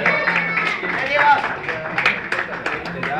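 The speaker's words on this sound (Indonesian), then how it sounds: "Beri tepukan yang perlu buat pengurus Haji Tajuddin." An audience at an evening event with Malaysian and Bruneian artists claps for the event manager, loud mixed applause with crowd murmur and voices talking over it.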